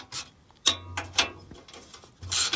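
A ratchet wrench clicks in short bursts while loosening half-inch bolts on the oil pan protector under a Nissan Frontier with a VQ 4.0 engine, with several separate close ratcheting strokes separated by brief pauses.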